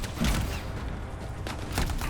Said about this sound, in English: that was a weak explosion